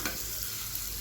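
Two fish frying slowly in a pan over low heat, giving a steady, close hiss of sizzling oil with no voices.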